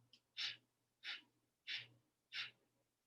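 Four sharp, forceful breaths in Bhastrika bellows breathing during a yoga session, evenly spaced and close, each a short hissing burst over a faint steady hum.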